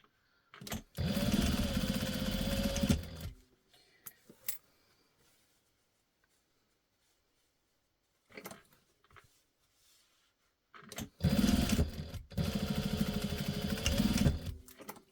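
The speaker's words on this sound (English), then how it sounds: "just going to do a little bit of chain stitching together here" A sewing machine chain-stitches the pieces of a fabric bowl cozy in two long continuous runs, one at the start and one near the end, with a few short stitch bursts and quiet pauses between them.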